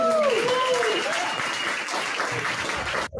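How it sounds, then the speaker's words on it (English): A live show audience claps and cheers for Stuttering John Melendez, a loud burst of applause that fades gradually, with a voice calling out near the start. "Big round of applause for stuttering John Melendez"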